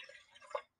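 Water is poured into a glass jar while a water xylophone is being made, a soft, faint trickling splash that lasts under a second and then stops abruptly, with no talk.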